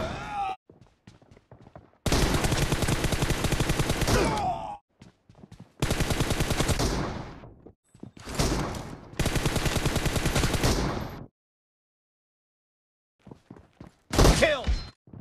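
Gunfire in the mobile battle royale game BGMI, with long loud bursts of rapid automatic fire separated by short pauses, then a final short burst near the end.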